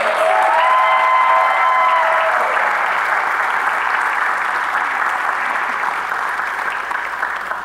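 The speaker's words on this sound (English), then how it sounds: "Can we have another round of applause for these amazing musicians?" A live audience claps for musicians in a dense, loud burst of applause that holds steady for several seconds, then slowly thins, with no voices standing out.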